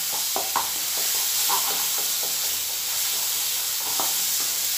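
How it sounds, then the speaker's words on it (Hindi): Masala spices with garam masala frying in hot oil in a pan, a steady loud sizzle and hiss with occasional stirring scrapes, no voices. "देखिए तेल हमारा छोड़ने को आ गया है। ये देखिए मसाला फ्राई हो चुका है"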